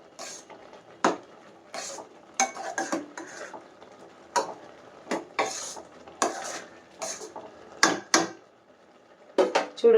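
A spoon stirring salt into a pot of katte pongali, a series of sharp metallic scrapes and clinks against the vessel in irregular bursts, close up with quiet gaps between strokes.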